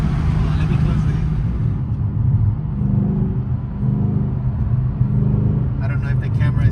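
A Ford Shelby GT350 fitted with a PMAS intake, its engine giving a loud, steady deep rumble and drone close by with no clear rise in pitch.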